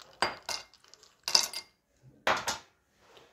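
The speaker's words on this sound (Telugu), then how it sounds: "4 to 5 ఐస్ క్యూబ్స్ వేసేయండి." Four or five ice cubes dropped one after another into a glass while making a cucumber mocktail, giving sharp clinks in a few separate bursts with quiet gaps between them.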